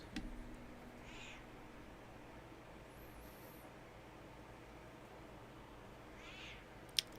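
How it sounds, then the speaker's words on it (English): A house cat meows faintly twice, a few seconds apart and somewhat distant, over a steady low background hum, with no one speaking. "I think my cat's just hungry."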